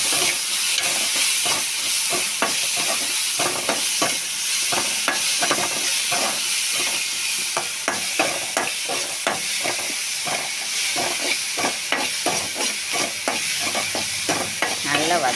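Onion and tomato with salt sauté in a pan, a continuous sizzle and hiss broken by frequent scraping stirs of a spatula, close and fairly loud with no talk.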